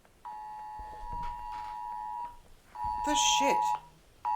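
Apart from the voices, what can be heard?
phone emergency alert tone for a flood warning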